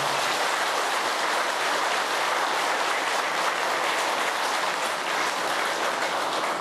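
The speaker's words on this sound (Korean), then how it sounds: "우선 큰 스님께 큰 그 박수 한번 부탁드립니다" A large audience at a Buddhist Dharma assembly at Beomeosa temple applauds the great monk, a dense, steady roar of clapping that carries on evenly and loud without a break.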